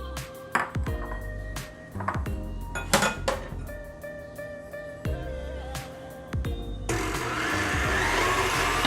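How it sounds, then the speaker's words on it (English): Egg yolks and sugar are whisked in a bowl: scattered metallic clinks and taps on the bowl come first, then a steady, rapid swishing of the whisk builds near the end. "I'm gonna add just a little sugar to my egg whites, egg yolks. And then I'm gonna whisk this together."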